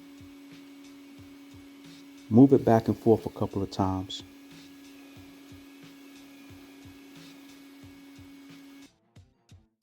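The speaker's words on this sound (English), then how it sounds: "Turn the vacuum on, hold the attachment," Vacuum cleaner and drill spinning a dryer vent cleaning brush give a steady motor hum through most of the clip, under a man's instructions, before cutting out near the end.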